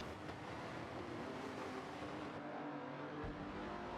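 Race cars in a Volvo TC racing game at Yas Marina run together during a formation lap, a continuous steady engine drone at moderate level with no distinct pass-bys and no voices.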